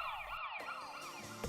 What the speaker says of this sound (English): heard a police car, ambulance or fire engine pass and heard the siren change suddenly